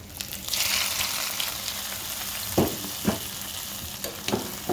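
Whole cumin, nigella seeds, red chili and onion frying in a pan for khichuri, a steady loud sizzle with a few sharp stirring knocks and scrapes partway through.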